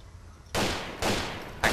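Three pistol shots in the police mod LCPD:FR for GTA IV, loud sharp cracks each trailing into a short decaying echo, spaced about half a second apart with no talk.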